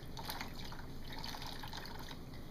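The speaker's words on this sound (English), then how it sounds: "And I'm going to wring most of the water out." A wet washcloth is wrung out by hand during a bed bath, giving a soft continuous trickle and patter of water dripping close by, quiet and steady with no voices.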